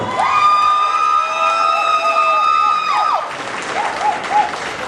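At an auto racing awards banquet, a crowd breaks into applause and cheering for a season champion, a broad wash of clapping joined by whoops and whistles that rises after an initial tone.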